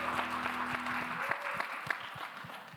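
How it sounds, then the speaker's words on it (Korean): A youth church congregation at a Sunday worship service claps together, fairly quiet and brief, with a few individual sharp claps standing out as it winds down. "우리 박수로 서로의 삶을 응원하며 축복하겠습니다"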